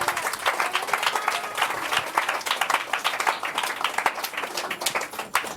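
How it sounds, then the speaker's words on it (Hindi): A church congregation bursts into sustained, lively applause, many hands clapping densely and evenly throughout, with a few scattered voices mixed in. "तालियां हो जाए परमेश्वर के लिए।"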